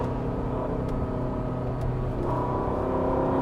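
A Ferrari supercar engine drones steadily from inside the cabin while driving, a continuous low hum with a slight rise in pitch toward the end, heard alone with no voices.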